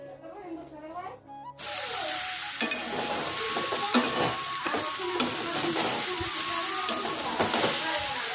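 Food frying in a pan: after a short stretch of speech, a loud steady sizzle takes over, with occasional stirring scrapes and clicks.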